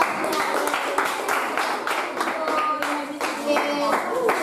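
Students in a classroom clap their hands together in a lively, uneven round of applause, with children's voices chattering over the clapping throughout.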